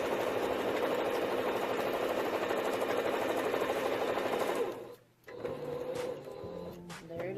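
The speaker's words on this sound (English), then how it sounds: "Just keep on going. That's chain stitching." A sewing machine chain stitching quilt blocks, a steady rapid whirring stitch run close up for several seconds, then a brief stop and a shorter, quieter burst of stitching with light handling clicks.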